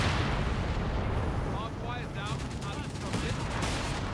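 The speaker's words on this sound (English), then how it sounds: "Machine gun doing some nice work here." Machine gun fire from the World War II strategy game Company of Heroes 3 rattles in bursts within a dense, constant battle din, with a voice talking over the gunfire.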